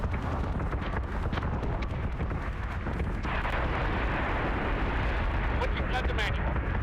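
Warship batteries fire in Battlestar Galactica Deadlock as a dense, continuous roar of booming cannon blasts that never lets up, with voices talking faintly underneath.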